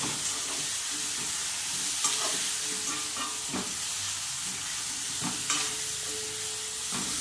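Masala for stuffed capsicum gravy sautéing in a pan, a soft steady sizzle and frying hiss with occasional spoon scrapes and stirring knocks throughout.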